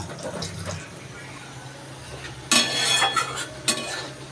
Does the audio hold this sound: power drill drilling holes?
no